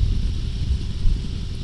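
A 2022 Harley-Davidson Road Glide ST motorcycle cruising on the road, giving a steady low engine rumble with soft wind rush, even and continuous throughout with no talking.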